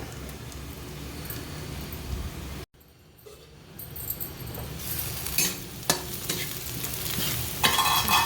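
Onion frying in a pan with curry leaves gives a continuous close sizzle, briefly cut off, then returning with stirring scrapes and light utensil clinks.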